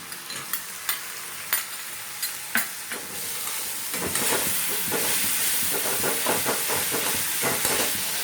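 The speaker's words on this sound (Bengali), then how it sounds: "মশলাটাকে একটু ভালো করে ভাজতে হবে" Spiced masala with a small tomato frying in oil in a pan: a few sharp stirring knocks at first, then a continuous loud sizzle with crackling bursts, close and without talk.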